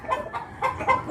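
A hen clucks loudly and repeatedly after laying her fifth egg, giving four close, rhythmic bursts with no talking.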